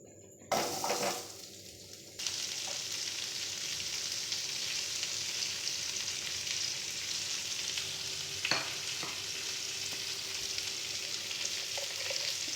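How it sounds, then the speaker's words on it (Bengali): Potatoes drop into hot oil in a home kitchen pan after eggplant has been fried, and a loud sizzle bursts in and then holds steady, with occasional light stirring clicks. "এবার এর মধ্যে দিয়ে দেবো, আমি তেলের মধ্যে দিয়ে দেবো আলু।"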